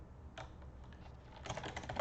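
Soft typing on a computer keyboard to enter text in an app builder, a few faint keystrokes at first, then a denser run of clicks toward the end.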